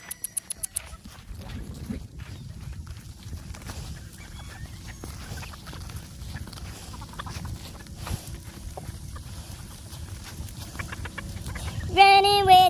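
Chickens cluck softly and intermittently nearby amid rustling movement, with a louder, sharper squawk close by near the end.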